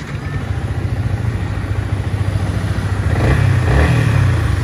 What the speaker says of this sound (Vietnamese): Có thể nổ máy cho anh em nghe thử chơi.